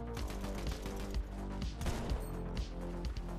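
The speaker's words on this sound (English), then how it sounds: "this is the auto shotgun" An auto shotgun firing in Fortnite, rapid repeated close blasts in quick succession, loud over game sound.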